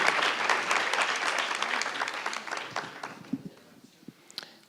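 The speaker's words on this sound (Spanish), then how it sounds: "Recibámosles entonces a ellas con un aplauso en este segundo día del Encuentro" A conference audience at an international journalism meeting applauds warmly, the clapping dense at first and then thinning out to scattered claps toward the end.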